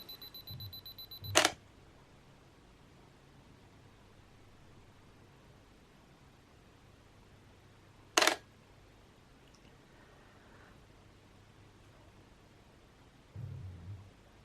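A Canon DSLR camera fires its shutter with a sharp mechanical click, then a second click follows several seconds later after a long exposure, with faint rustling near the end in an otherwise quiet room.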